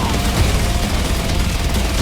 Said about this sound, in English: just listen to that rattler cannon that this one's got